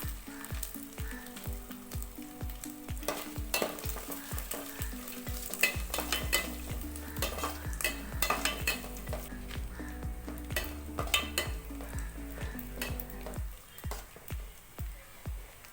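Steady sizzle of cashews frying in ghee, with a spoon scraping and stirring the pan in a fairly regular rhythm throughout.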